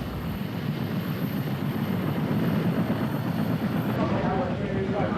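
A Dustoff medevac helicopter in Vietnam flies with a steady, loud rotor and engine rumble that holds for the whole stretch, thick low drone with broadband wash above it.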